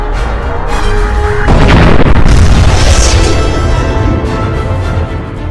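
A cruiser cannon in the Halo 3 video game fires with a loud, sustained booming blast that rolls on for several seconds before easing off.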